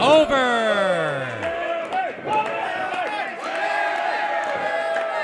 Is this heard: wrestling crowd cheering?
yes